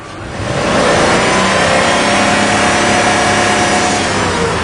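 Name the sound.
car engine revved to higher RPM during repair test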